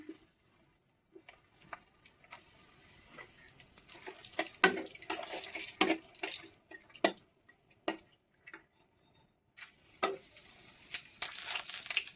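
Chili frying in a wok gives intermittent sharp sizzles and crackles with scattered clinks of stirring, quiet at first and growing busier, close up with no talk.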